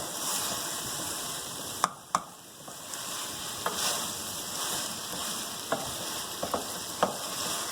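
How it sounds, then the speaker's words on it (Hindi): Sliced okra (bhindi) with green chillies fries in a pan: a soft, steady sizzle with a few sharp clicks and scrapes of stirring scattered throughout, close and fairly quiet, no voices. "भूनते वक्त हम इसमें हरी मिर्च ऐड कर देंगे। ये देखें, और इसे अच्छी तरीके से खूब भूनेंगे।"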